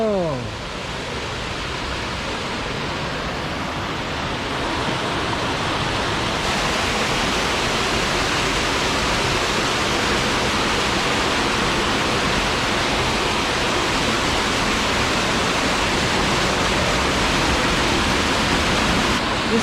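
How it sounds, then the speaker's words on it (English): A steady roar of a waterfall pouring out of a cave, loud and close, a broad wash of noise with a voice briefly underneath, in Manitou Springs, Colorado. "This like cave and there's like a waterfall coming out of it."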